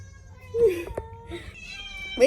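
Several house cats meow loudly at feeding time, with a few drawn-out, rising and falling cries and some overlapping mews. The sounds are near and noisy, and a person talks in the background.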